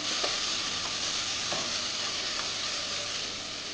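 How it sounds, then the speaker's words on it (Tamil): Tomatoes sautéing in a pan for rice-free cabbage biryani, a steady close sizzle with a few soft stirring clicks, no talk. "தக்காளிலாம் போட்டு நல்லா வதக்கிக்கலாம்"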